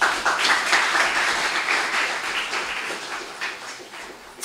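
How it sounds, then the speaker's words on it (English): An audience at a district Mathematics Week celebration gives a round of applause, a fairly loud, continuous wash of clapping that holds for several seconds and rises again at the end. "Let's give you a very big round of applause."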